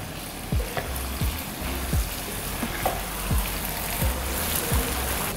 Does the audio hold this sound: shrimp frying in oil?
yes